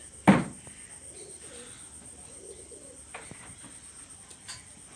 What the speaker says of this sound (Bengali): এটা হলো আমার একটা জনচিনার টেডি পেয়ার, নতুন কবুতর